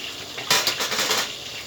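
A utensil scrapes and clatters against a bowl while Thai spicy mushroom salad with pork is tossed together, a short, close, bright mixing sound with no talk.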